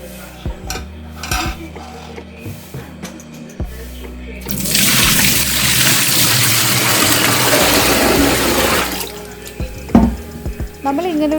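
Water pours steadily into a vessel while making arrowroot powder, a dense rushing gush running for several seconds between lighter clinks and knocks of kitchen utensils.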